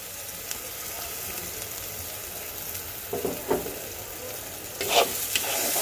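Blended spice paste frying with softened onions in a pan for chicken roast, a steady soft sizzle with a few louder stirring scrapes near the end; no talking.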